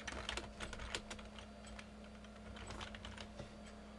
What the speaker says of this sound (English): I'm just going to type in something quickly here.